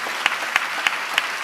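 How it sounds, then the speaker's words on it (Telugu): Church congregation clapping hands in praise during a sermon, with four sharp, evenly spaced claps standing out over a soft background hiss, moderately close. "కొంచెం గట్టిగా చప్పట్లు కొడుతూ ప్రభు వారికి స్తోత్రాలు చేద్దాం"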